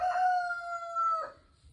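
A single rooster crows once, a drawn-out cock-a-doodle-doo heard fairly clearly at moderate distance, with a short tail at the end and no other sounds around it.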